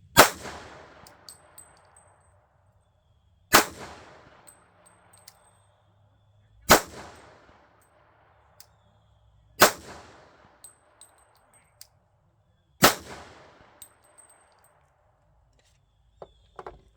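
Five sharp, loud gunshots from a Glock 32 pistol firing 1776 9mm ammunition, spaced about three seconds apart at an outdoor range, each followed by a short ringing decay, with no talking.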